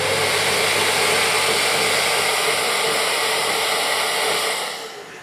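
Mirka rotary sander running steadily at mid-speed, a constant whirring motor hum with a high hiss, loud and close, winding down at the end, no voices.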